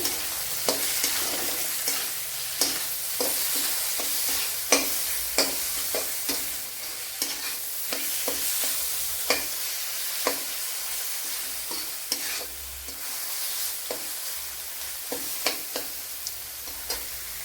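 Curry leaves frying in a pan of egg masala base, spitting and sizzling steadily with repeated sharp scrapes and clinks of a spoon stirring, close and alone without talk.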